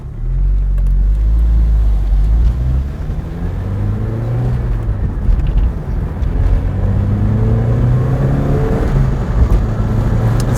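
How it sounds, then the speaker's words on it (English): A 1986 Porsche 944 Turbo accelerates with a loud, close engine roar that climbs in pitch, drops briefly at the shift into third gear, then pulls and rises again. "I'm just going to shove it into 3rd gear, let the clutch back out"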